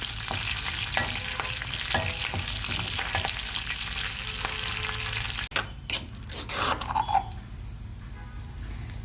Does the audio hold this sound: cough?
no